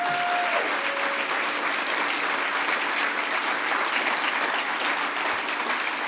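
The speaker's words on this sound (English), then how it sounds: "actually give a round of applause for the row of people in the back" Audience applause at a hacker conference closing ceremony, honoring the row of people in the back: steady, dense clapping from a large crowd that fills the whole stretch without letting up.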